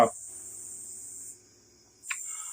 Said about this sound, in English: y'all hear the crickets outside?